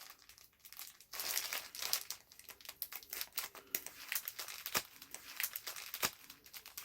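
A plastic bag holding Japanese women's wrestling merchandise crinkles and crumples as it is handled and opened, a quiet, busy stream of rustling and crackling with a few sharper snaps, close up and with no talk.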